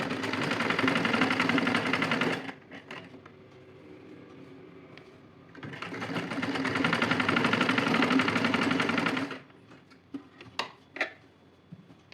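A sewing machine stitching a blouse runs in two long, steady bursts of fast mechanical whirring, with a quiet pause between them and a few clicks and handling knocks at the end.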